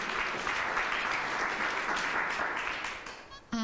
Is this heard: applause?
yes